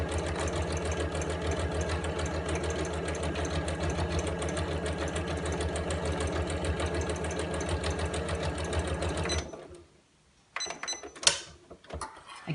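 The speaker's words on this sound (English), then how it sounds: "I'm going to stop with the needle in the down position, lift up the presser foot and pivot" A domestic sewing machine runs steadily, stitching fabric for a tablet case, with a continuous close mechanical whir for about nine seconds before stopping. A few short clicks and rustles follow as the presser foot is lifted and the work is pivoted.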